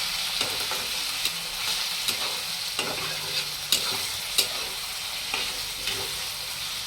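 Onion and tomato sizzling in a pan while being stirred, with regular spatula scrapes and knocks at roughly one-second intervals over a continuous fry hiss, no voices.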